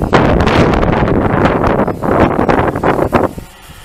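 Strong wind buffets the microphone at an outdoor drone flight site beside a swamp and tree line, a loud close rumbling roar with gusts that swell and ease before dropping off near the end.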